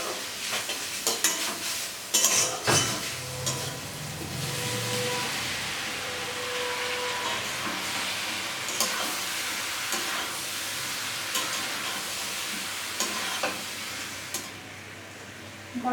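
Spiced tomato masala with ginger, garlic, turmeric, coriander and red chili powder stirred in a hot pan, a steady sizzling hiss with scraping spoon strokes early on, then continuous frying noise fading slightly toward the end.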